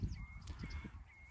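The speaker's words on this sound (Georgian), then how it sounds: "საკმაოდ ლამაზი ბატები არის" Geese honk a few times at a distance, faint calls over a quiet low rumble outdoors during a morning hunt.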